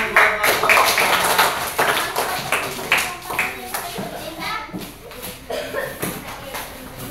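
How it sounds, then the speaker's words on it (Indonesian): Children applaud together in a primary school classroom, a burst of hand clapping with scattered taps and young voices, fading unevenly over several seconds as chatter continues. "Oke, boleh tepuk tangan."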